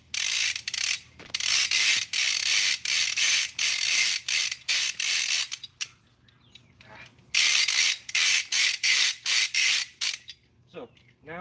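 Rope is hauled in repeated strokes through a ratcheting pulley device, each pull giving a loud, close, buzzing run of clicks, with short pauses between strokes and a longer break partway through.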